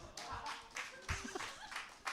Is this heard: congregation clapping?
yes